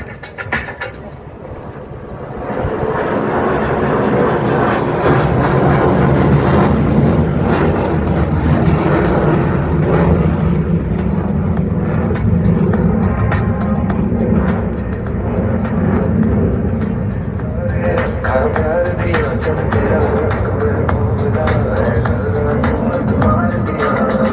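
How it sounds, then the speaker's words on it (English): A jet aircraft at an airshow lights its afterburners for a rapid speed-up, building into a loud, continuous roar that holds steady for about twenty seconds after a quieter start. "the aircraft shall re-engage his afterburners for a rapid speed up"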